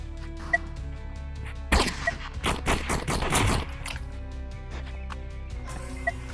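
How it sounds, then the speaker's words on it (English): Starter pistol shots in the video game Animal Rivals come as a quick burst of sharp cracks and pops clustered in the middle, set against quieter game sounds with a few faint isolated clicks. "When is the starter pistol gonna get nerfed?"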